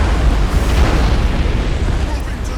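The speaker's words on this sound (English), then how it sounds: "Oh, that spread of torpedoes is going to hit." Torpedo spread striking a ship in Battlefleet Gothic Armada 2, a dense rumbling burst of booming explosions, loud and low with a sustained roar throughout.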